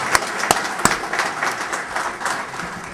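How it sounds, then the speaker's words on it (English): Scattered audience applause at a sports hall of fame induction ceremony, a few sharp individual claps standing out over a thin, steady patter of hands that stays fairly quiet throughout. "let's give them a round of applause."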